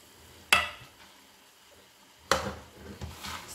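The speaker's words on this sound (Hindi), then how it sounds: "जो मैंने दाल भिगो कर रखी हुई थी अपनी माश की दाल, वो इसको हम करेंगे मिक्स" Soaked mash (urad) dal being mixed in a pan with a spoon, two sharp scraping clatters of utensil against pan a couple of seconds apart, with softer shuffling and faint sizzle between, no voices.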